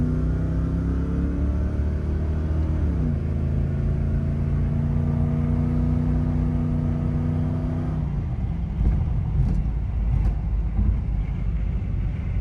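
A 1991 Pontiac Firebird Formula with a 350 V8 idles in a deep steady rumble, the pitch shifting midway, then revs up with a rougher, rising roar over the last few seconds, close and alone.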